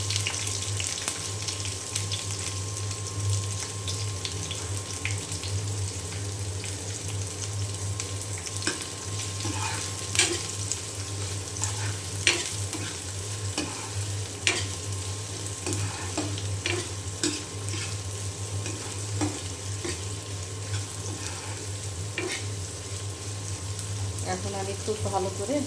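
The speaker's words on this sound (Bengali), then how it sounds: "এখন আমি খুব ভালো করে ভেজে নেব, বাদামি কালার করে ভেজে নেব" Whole dried chillies, chopped onion and garlic frying in mustard oil, a continuous moderate sizzle with scattered stirring clicks and scrapes throughout, with no talk.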